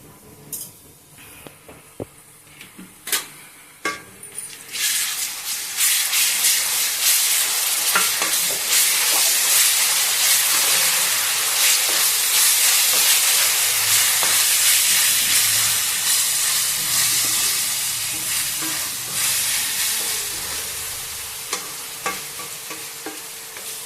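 Ginger paste hits onions frying in a pan for chicken liver fry, with a few clinks and stirs before a loud, steady sizzle that rises and holds, then fades slightly while scraping stirs continue.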